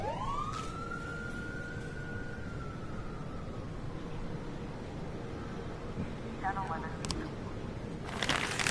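A single fire engine siren wail in a video game rises and slowly fades over a steady background rumble, followed by a few brief sharp noises.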